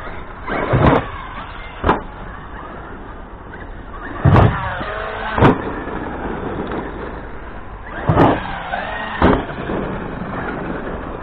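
A Traxxas X-Maxx 8S RC car with big wheels whining as it drives outdoors, with several sharp bursts of motor revving and impacts spaced through a steady background.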